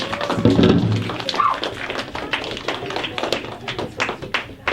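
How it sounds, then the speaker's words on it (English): Scattered, uneven clapping from a debate audience, with sharp taps spread across the clip after a brief low thump and a murmur of voices at the start. "Give them a round of applause for that round."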